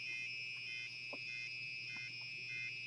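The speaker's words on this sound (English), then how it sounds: "we got a little bit of an alarm sound, very annoying" An Arduino active buzzer sounds a faint, continuous high-pitched alarm tone that stays steady, with slight regular pulsing and no voices.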